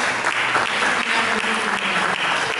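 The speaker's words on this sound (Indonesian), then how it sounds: "Mari kita berikan tepuk tangan bagi Yesus" Congregation at a Christian church service applauding together, a steady dense wash of many hands clapping throughout, loud and close, with no talk over it.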